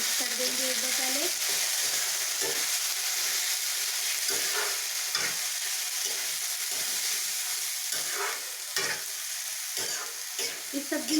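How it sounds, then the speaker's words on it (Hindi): French beans with tomato stirred and frying in a pan: a steady sizzle runs throughout, with repeated scraping strokes of a spoon pushing the vegetables around. "अब हम इसमें डाल देंगे फ्रेंच बीन्स और इसे अच्छे से मिक्स कर देंगे एक बार पहले।"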